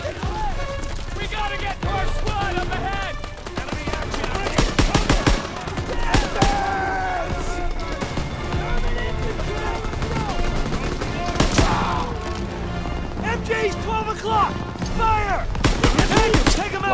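Gunfire in Call of Duty WW2: bursts of rapid machine-gun and rifle shots crackle through a World War II battle, some sharp and close, others distant, with players talking over the steady noise.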